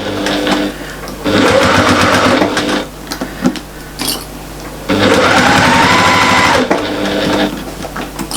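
A sewing machine stitches around the curved gusset of a fabric pouch held with clips, running in two sustained bursts with pauses of quieter handling between them, close and fairly loud.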